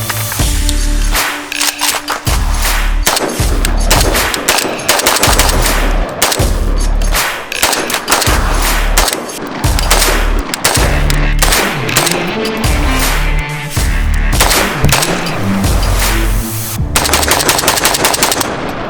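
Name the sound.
AK-47 rifle gunfire at shooting range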